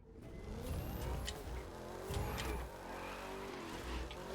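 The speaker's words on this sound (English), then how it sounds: "Holy drift." A Mustang drifting in The Crew 2 with a steady engine roar and long, high tire squeal sweeping across the asphalt, loud and continuous throughout.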